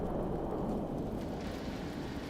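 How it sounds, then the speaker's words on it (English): Rumbling thunder of a nuclear storm in the Fallout 4 video game, a steady, dense low roar mixed with rain-like hiss, continuous and fairly loud without speech. "Damn this nuclear storm"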